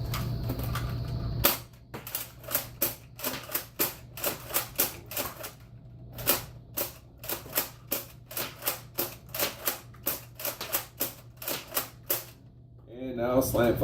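A Nerf N-Strike Raider CS-35 dart blaster fires a long run of sharp, close clacking shots at a quick, slightly uneven rhythm, each a crisp snap with short gaps between. A brief rattle follows at the end.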